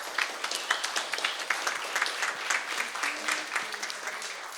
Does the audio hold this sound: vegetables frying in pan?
no